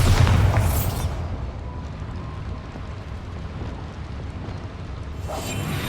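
A Bombarda blast spell in Hogwarts Legacy goes off as a loud, booming burst, then settles into a long rumbling roar of debris before a fresh whoosh rises at the end.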